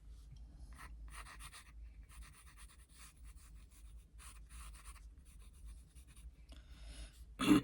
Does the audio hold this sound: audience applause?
no